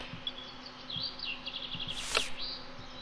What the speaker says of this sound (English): Get out of here, wasp.